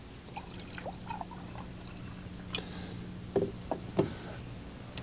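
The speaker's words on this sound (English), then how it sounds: "I'm going to add some clear lake water to these jars." Clear lake water is poured into glass jars, faint trickling and splashing with a few light clinks of glass against glass, quiet and close with no talking.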